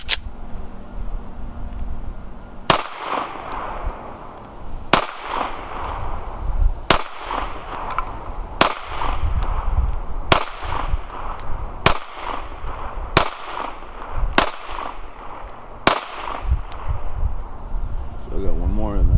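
Taurus G3C TORO 9mm pistol fired outdoors, about ten sharp loud shots at a steady pace roughly a second or two apart, each followed by a brief echoing tail.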